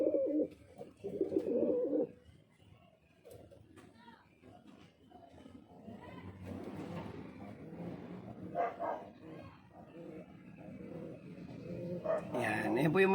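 Soft pigeon cooing and rustling inside a pigeon loft, with a person talking over it and a dog barking briefly in the background.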